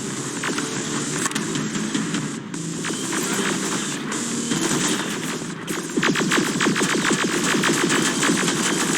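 Rapid automatic gunfire rings out in the video game Terminator Resistance, with sustained bursts of rattling shots that grow louder and denser toward the end. No one speaks.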